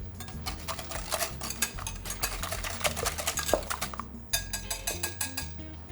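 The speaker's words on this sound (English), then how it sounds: "you can hear the tomato sauce reducing down" Thick tomato sauce bubbles and spatters softly as it reduces in a pan, with occasional light clinks of a utensil against metal. Close and fairly quiet.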